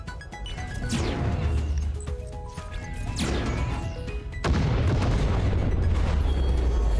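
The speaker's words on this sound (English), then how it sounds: "I like the explosions" Several booming explosions in the space combat game Breachway, heavy crashes with long rumbling tails arriving one after another, the last one hitting hardest and leaving a sustained low roar.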